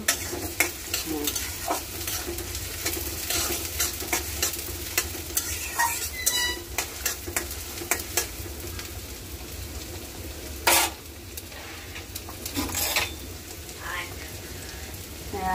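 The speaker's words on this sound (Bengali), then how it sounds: "এই যে পেঁয়াজ দিয়ে দিলাম।" Onions fry in a pan for a Bengali afternoon meal with Malabar spinach, giving a crackling sizzle with frequent close scrapes and clatters of stirring, and a voice speaks faintly underneath.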